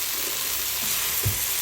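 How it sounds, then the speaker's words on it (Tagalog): Pork browning in a hot pan gives a steady, dense frying sizzle that runs unbroken, with a couple of soft low stirring bumps and no talk over it. "pa-brown lang natin yung ating pork."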